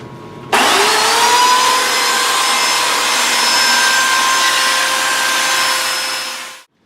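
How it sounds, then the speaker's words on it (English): A chainsaw carving a rock wall prop runs at a steady, loud, droning whine. It kicks in abruptly after a brief pause and holds nearly constant for about six seconds before winding down and cutting off. "So I had to use the chainsaw."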